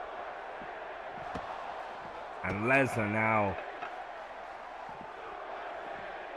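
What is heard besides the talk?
arena crowd in the video game WWE 2K16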